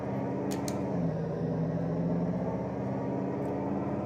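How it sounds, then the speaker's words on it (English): A muscle car engine in an Amiga racing video game drones in a deep, steady rumble, holding a constant loud note throughout. "Sounds like a muscle car."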